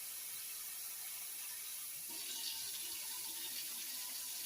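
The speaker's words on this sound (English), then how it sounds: "since my hot water in my sink comes out basically boiling" Near-boiling hot water gushes steadily from a kitchen sink tap, a constant hissing rush that grows slightly louder partway through, with no talking.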